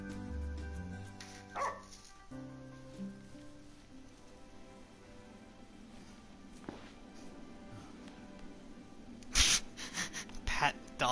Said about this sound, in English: Pet dog.